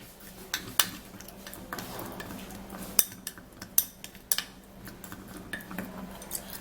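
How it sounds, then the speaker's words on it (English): Olive oil mixture being stirred in a small container, with a scatter of light clinks and taps from the spoon against the sides, spaced irregularly over a quiet background with no talk. "then we stir it"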